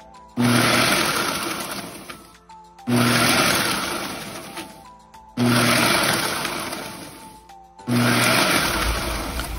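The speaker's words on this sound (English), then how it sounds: "Then I used my blender and put it on the chopping setting." A kitchen blender on its chopping setting pulses through dehydrated, crisp onion pieces, with four loud bursts of whirring motor and rattling debris, each starting abruptly and fading slightly before a brief pause.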